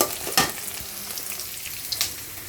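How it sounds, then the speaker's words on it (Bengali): Sliced onions frying in oil into birista for mutton biryani, a continuous loud crackling sizzle with occasional stirring scrapes, close and alone. "পেঁয়াজের বেরেস্তা লাগবে তার জন্য পেঁয়াজের বেরেস্তা করে নিতেছি"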